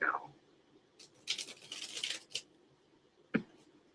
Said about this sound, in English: I'm shuffling the deck for Montaigne right now.